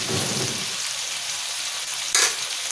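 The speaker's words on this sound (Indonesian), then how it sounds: "Kita masukkan udangnya yang udah dicuci tadi. Terus kita aduk." Washed shrimp frying in a pan give a constant close sizzle while being stirred, with a sudden louder burst of crackling near the end.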